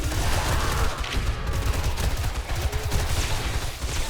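Gunfire in the zombie shooter 7 Days to Die, Rebirth mod: a steady, loud barrage of rapid shots blending into a dense, continuous rumble without any talking.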